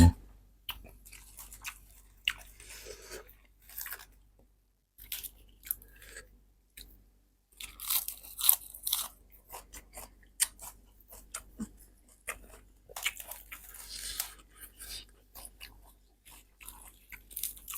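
Crunchy vegetables from a spicy Thai chicken-feet salad are chewed up close, with irregular crisp bites and crunches separated by brief pauses.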